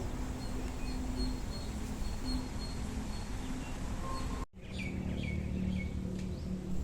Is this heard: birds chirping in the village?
yes